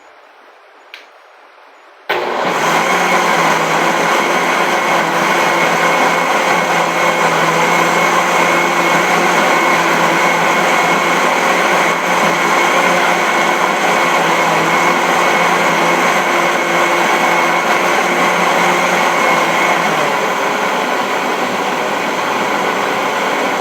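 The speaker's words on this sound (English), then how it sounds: "we are going to blend it one more time, just to be careful and to be enough" A blender whirs steadily through a batch of pineapple rice chicha. It starts abruptly after a short quiet lead-in, then holds a loud, constant motor drone to the end.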